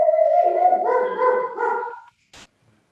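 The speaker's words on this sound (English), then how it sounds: "I have no idea why my dog is going so nuts." A dog at a remote rural home barks frantically in a long, drawn-out howling volley that wavers in pitch for about two seconds, followed by one short sharp yip; loud and close, with no talking.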